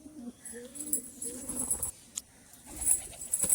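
Pigeons at a home loft coo softly with low, rounded calls repeating through the stretch, with faint chirps and light background rustle; no talking.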